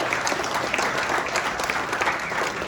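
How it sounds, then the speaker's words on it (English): Audience at a stand-up comedy show applauds, a steady close wash of clapping from a crowd that holds evenly throughout. "Give a round of applause for yourself for being up there."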